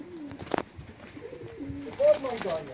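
Soft pigeon coos and a few bird calls at close range, with brief bursts of outdoor noise and faint voices around them.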